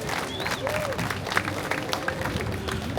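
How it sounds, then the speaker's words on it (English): Welcoming applause for a state senator at an outdoor ocean festival opening ceremony, a moderate spread of clapping from the gathered crowd mixed with murmuring voices and a few cheers, steady across the moment. "Can we have a nice round of applause of welcome?"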